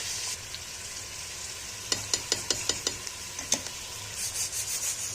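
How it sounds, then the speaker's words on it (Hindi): Garlic and salt frying in a pan with a constant soft sizzle. A short run of sharp scraping strokes, like stirring, sits near the middle, and the frying swells again toward the end. "अब करेंगे फ्राई अच्छे से"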